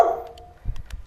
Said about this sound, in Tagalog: Huwag ka nga dyan maingay na aso ka